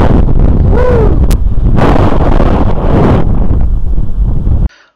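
Strong wind on a beach batters the microphone of a Sony RX10 IV camera in loud, roaring gusts with brief lulls, then cuts off abruptly.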